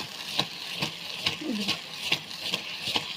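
A spoon stirs brinjal curry in a pan, turning it over from top to bottom with about seven evenly spaced scraping strokes over a soft, low sizzle.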